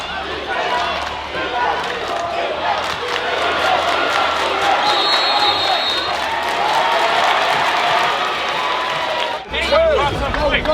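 Loud basketball crowd at a high school game cheers and yells after a three-pointer, a dense continuous roar with scattered shouts and clapping, briefly dipping near the end before surging again.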